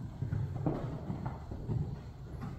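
A horse canters during a riding lesson, its hooves beating out a steady clip-clop rhythm at moderate distance, with no voices over it.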